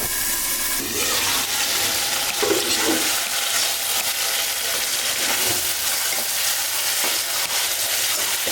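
Taro stolons fry with dried shrimp, sizzling and crackling steadily in a hot pan, with occasional scraping stirs of a utensil, continuous and close.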